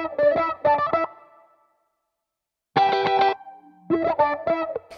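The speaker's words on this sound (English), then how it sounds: "Lots of wah pedal, but it's pretty much all the Quarry Wong amp." Distorted electric guitar through a Quarry Wong amp and a wah pedal plays short chord stabs in bursts separated by silence, the tone sweeping and shifting.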